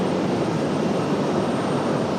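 A Southwest Boeing 737 MAX 8 jet arriving at RDU makes a steady, broad roar, loud and unbroken for the whole stretch, with no voices.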